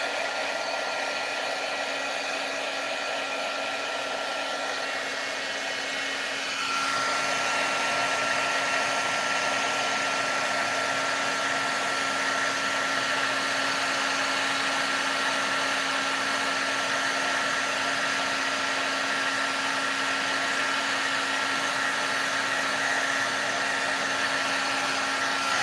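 A heat gun blows steadily for heat embossing a stamped image, a continuous loud airy hum with a fixed tone that steps slightly louder partway through and runs without a break.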